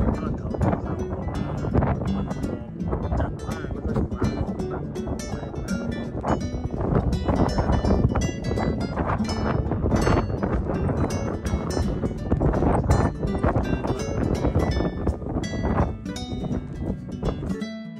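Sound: cold wind blowing on a snowy Swiss mountain peak

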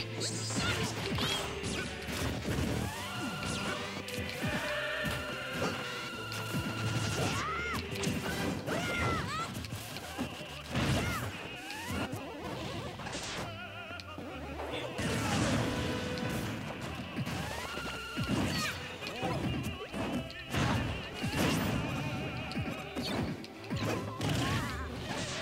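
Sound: Mega Man fighting and shooting in Super Smash Bros Wii U video game

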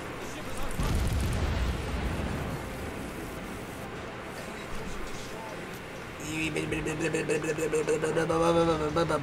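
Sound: naval gunfire and explosions in World of Warships video game

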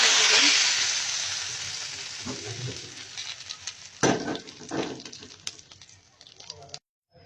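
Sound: chopped garlic frying in oil for beef haleem

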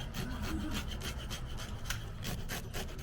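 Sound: scraping scales off a trout

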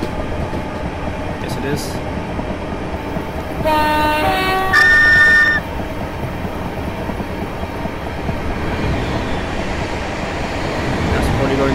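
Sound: Class 444 train passing in the video game Train Simulator 2019

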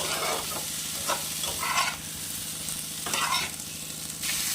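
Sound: sautéing cauliflower vegetables with green chillies in a pan

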